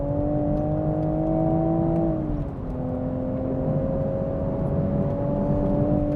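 A manual Toyota GR Supra pulls hard out of a corner on a hot, greasy track, its engine droning in a steady, loud tone that dips briefly at a gearshift and then climbs again.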